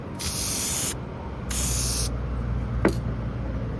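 Two long hissing bursts from an aerosol can of air filter oil sprayed onto a mini bike's foam air filter, close up, followed by a short final spritz.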